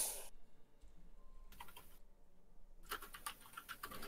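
Keys clack on a computer keyboard in quick, uneven bursts of close, crisp taps separated by brief quiet gaps.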